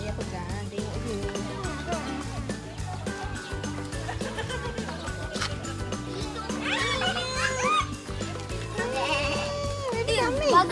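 Goats bleating at a mini zoo in Simpang Renggam while children feed them small bits of grass, the wavering calls mixed with lively talk from adults and kids nearby.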